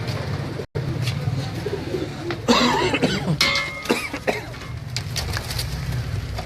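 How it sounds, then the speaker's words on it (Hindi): Pigeon held in a person's hand, giving soft cooing calls amid rustling and handling noise close by, with a brief cough and some faint background sounds. "ये कबूतर है मेरे हाथ में"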